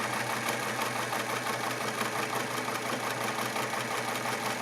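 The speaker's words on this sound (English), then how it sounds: "we'll do a little stitching here. You can see how well that just pulls that fabric right through." A Singer 239 sewing machine stitches fabric with a steady, rapid mechanical hum and fine rhythmic chatter, running continuously at close range.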